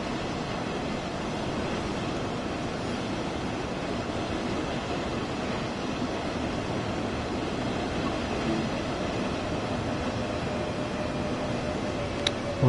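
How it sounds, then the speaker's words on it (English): A train pulls into a station in the Train Sim World 4 game on the Dresden network, heard as a steady, even rumble of rolling wheels and ambient noise with a faint short tone near the end. "There's another train coming in."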